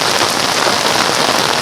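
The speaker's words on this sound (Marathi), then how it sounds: "जोरदार पाऊस पडतोय." A monsoon downpour in Konkan drums loudly and evenly on nearby surfaces as a thick, constant wash of rain, with no speech.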